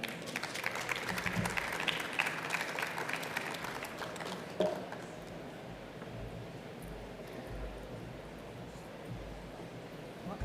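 Applause from a conference audience for health innovators, loud dense clapping that fades away after about four seconds into quiet room noise.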